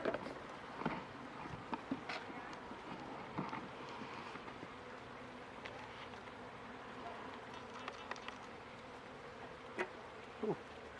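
Honeybees buzz steadily at a nuc split hive, a dense, close, continuous drone with a few soft knocks and handling sounds, and no talk.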